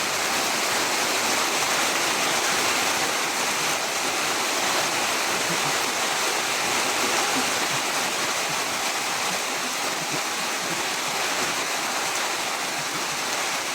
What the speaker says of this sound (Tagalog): Bigla sa ulan, eh.